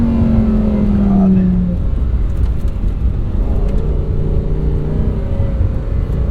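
A 2022 Lamborghini Huracan's engine revs while driving, one pitch sweeping down early on, then a steady loud drone that sits under in-car noise for several seconds.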